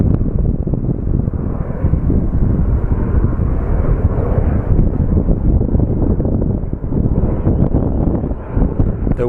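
A Contour Airlines airplane departs Phoenix Sky Harbor Airport, its engines a loud, steady roar that fills the whole stretch, with wind buffeting the microphone throughout.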